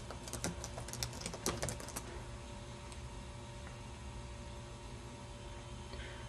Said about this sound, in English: Type in the name that you'd like to see.